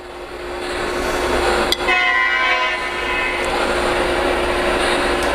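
A model diesel locomotive sounds a sustained horn blast over a steady rolling rumble of the running train, close and loud, with a brief click partway through.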